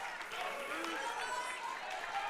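A crowd cheers and claps at APA powerlifting nationals during a record attempt, a steady roar of applause filling the hall under a commentator's voice.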